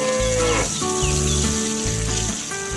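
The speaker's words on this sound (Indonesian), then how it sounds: "Lihatlah betapa damainya sapi dan babi kita hari ini." Cattle on a farm give several loud, close moos in quick succession, each a low drawn-out call, with a short gap in between and no talking.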